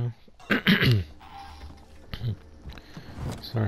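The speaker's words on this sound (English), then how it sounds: "Sorry if you keep on coughing." A person coughs and clears their throat in a few harsh bursts, close and fairly loud, with quieter game sounds between them.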